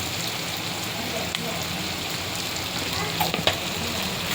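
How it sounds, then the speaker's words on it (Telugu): Coriander powder fries in oil for a green chilli chicken gravy, a dense continuous sizzle with a few faint spoon scrapes near the end, close and steady. "ఇలా బాగా వేగిపోవాలి ఆయిల్లో"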